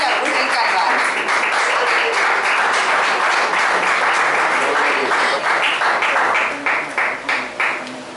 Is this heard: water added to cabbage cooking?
no